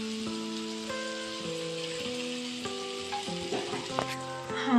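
Beans palya frying with homemade coriander powder in a home kitchen, a steady close sizzle running through the whole stretch, partly masked by loud, sustained tonal music over it.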